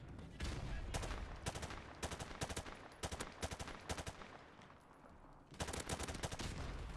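Automatic gunfire in a Call of Duty match, arriving in rapid bursts of machine-gun fire separated by brief pauses, loud and sharp throughout with no talking over it.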